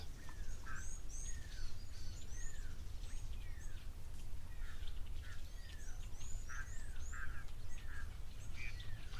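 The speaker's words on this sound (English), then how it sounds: "There's this pearl-spotted owlet calling in the background." Pearl-spotted owlet calling at an African waterhole, a series of repeated high, rising whistled notes at a steady pace, moderately distant over constant outdoor hiss.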